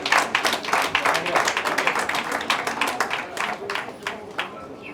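Audience applause at an Ayurveda Day award function, a dense run of many hands clapping that swells near the start and gradually thins toward the end.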